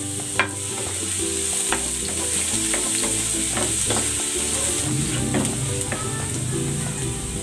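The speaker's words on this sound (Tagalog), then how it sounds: "Gisa na natin tong bawang." Garlic sautéing in cooking oil in a home kitchen, a steady close sizzle with occasional stirring clicks and scrapes throughout, no talking.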